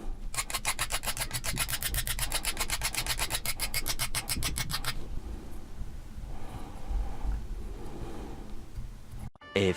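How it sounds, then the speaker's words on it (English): A CRKT Ripsnort knife blade drawn along an old Lansky sharpening stone in a quick, steady run of rasping strokes, then the scraping slows and softens into quieter, irregular rubbing. "I'll just try with an old stone from my Lansky sharpening kit"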